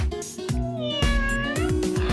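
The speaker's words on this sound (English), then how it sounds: "do you know the sound of a cat?" A cat meows several times in quick succession, close and clear, with drawn-out, wavering cries and no talking over them.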